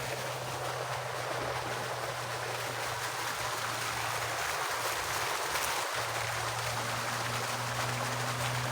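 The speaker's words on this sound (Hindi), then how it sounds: "पानी का तो नज़ारा देखने वाला भाई, देखो कितना प्यारा आवाज़ आ रहा है" Steady rushing irrigation water flows continuously into date palms, with a low mechanical hum running underneath the whole time. No one speaks.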